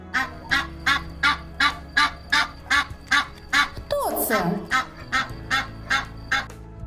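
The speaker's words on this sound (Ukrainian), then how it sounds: "Це гуска." A goose honks repeatedly in a steady rhythm, loud and close, and a person briefly asks a question partway through.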